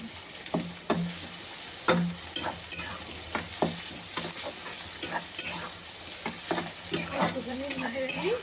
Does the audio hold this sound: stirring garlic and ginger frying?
yes